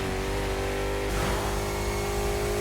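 A Jaguar sedan with a rear-only widebody revs hard in a racing game, a loud, sustained engine roar whose pitch climbs and then settles into a steady high drone.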